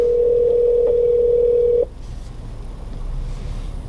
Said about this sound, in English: So now you can hear the call coming through the phone.